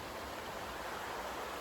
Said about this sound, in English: we're ending with a nice little creek next to us